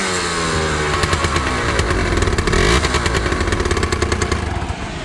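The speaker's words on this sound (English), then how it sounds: "So now this is the Scooterworks Buddy 50 Sport Exhaust System." A Genuine Buddy 50 scooter fitted with a Scooterworks sport exhaust runs close by, its small engine putting out a loud, raspy, rapid popping drone that swells briefly as it revs, then settles.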